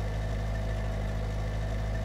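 A souped-up old rust bucket car in My Summer Car idles with a modified engine, a loud, continuous low rumble and throb with steady vibration and no pauses.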